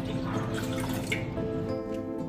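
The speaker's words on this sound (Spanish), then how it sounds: "en una cacerolita vamos a poner medio litro de agua" Half a liter of water pours into a small saucepan, a steady running splash with faint drips, moderately quiet and alone.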